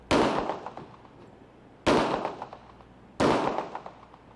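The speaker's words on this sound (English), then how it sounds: "See for yourself as the officer fires the weapon. The bullet penetrates this piece of metal." An officer fires a .40 caliber pistol at a piece of metal: three loud, sharp shots spaced well over a second apart, each ringing off in a fading tail.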